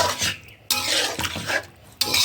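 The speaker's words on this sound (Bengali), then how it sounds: "তো কষায় নিচ্ছি মাছটাকে ভালো করে" Fish being sautéed with ginger, garlic, cumin, coriander and other spices in a pan, stirred in repeated loud scraping strokes with a faint sizzle beneath, no voices.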